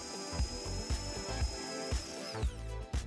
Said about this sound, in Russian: Теперь в ней нужно просверлить отверстие.